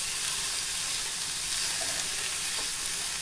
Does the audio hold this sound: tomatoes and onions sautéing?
yes